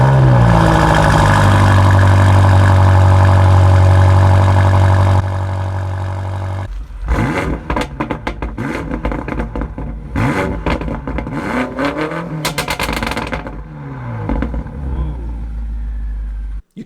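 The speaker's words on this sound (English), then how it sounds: "You could really make it obvious that you have something awesome out there with the snap and the snarl of the exhaust system." A BMW M5 Competition's engine and exhaust first hold a loud, steady idle with a deep drone, then after a drop fire off a series of sharp, snarling revs with crackles, close and loud.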